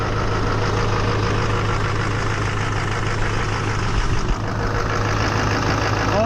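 A Chevy Duramax truck engine idles steadily close by, a loud, even diesel rumble with a faint knocking rhythm and no change in pace.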